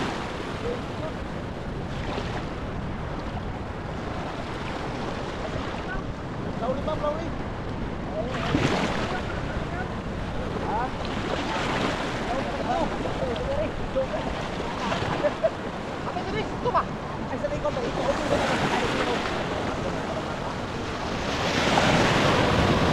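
Strong sea current and surf churn during a typhoon, with waves washing and crashing steadily alongside gusting wind buffeting the microphone and occasional louder surges of water.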